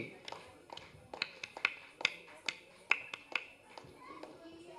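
An audience at a classical dance award function claps along for a group dance in a loose rhythmic beat of sharp, fairly close hand claps, with faint children's voices in the background.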